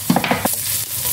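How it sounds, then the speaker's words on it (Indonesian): Garlic sautés in a pan over low heat, giving a quick run of soft crackles and stirring scrapes followed by a steady bright sizzle, close up. "sekarang kita menumis bawang putih"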